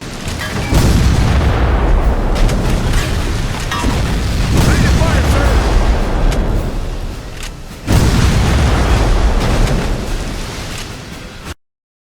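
Heavy artillery explosions in a History Channel first-person shooter video game, three loud booming blasts spaced a few seconds apart, each followed by a long rumbling decay before the sound cuts off abruptly.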